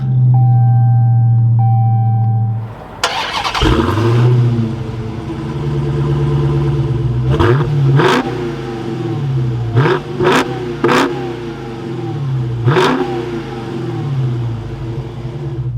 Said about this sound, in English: inside the Hellcat, keeping my foot on the brake, we can go ahead and fire it up